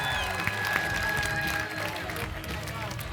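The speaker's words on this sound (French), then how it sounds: "j'aimerais qu'on donne une bonne applaudissement aux deux équipes, s'il vous plaît." Audience at an improv match applauding and cheering for two teams, a moderate wash of clapping with voices and whistles mixed in, fading slightly toward the end.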